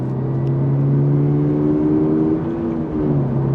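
A sports car engine, a Porsche 911 997 or a Toyota GR 86 or Yaris GR, hums steadily and close with a strong low drone and slowly shifting harmonics, holding a sustained pull with no talk over it.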